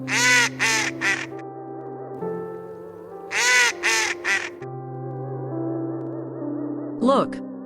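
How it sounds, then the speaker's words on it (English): Duck quacks in two bursts of three or four loud nasal calls, separated by a pause over a sustained musical backing, with a short squawk near the end. "What does the duck say?"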